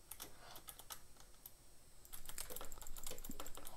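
Rapid computer keyboard and mouse clicking during a Bedwars match in Minecraft, a steady flurry of sharp keystrokes and clicks that grows denser and louder in the second half, with no talk.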